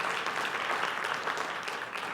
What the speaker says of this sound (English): yes, you can applaud that